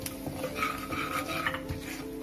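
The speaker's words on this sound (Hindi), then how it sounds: "थोड़ी सी हल्दी पाउडर और नमक। इसको 1-2 सेकंड के लिए थोड़ा सा फ्राई कर लेंगे।" Turmeric powder and salt fried briefly in a pan for a guava sabzi, heard as soft spatula stirring and utensil scrapes against the pan with only a faint sizzle beneath a steady background hum.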